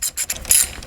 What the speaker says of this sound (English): And we go around, put all the bolts back up.